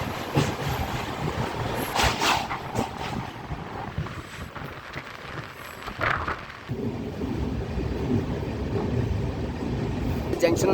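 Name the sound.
Simhapuri Express train running, Vijayawada to Gudur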